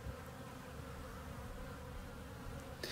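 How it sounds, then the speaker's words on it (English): Honeybees in an observation hive, just installed with their queen, hum in a dense, continuous drone that stays steady and close throughout. "At first the bees stayed at the top, but quickly they made their way down to where the queen was."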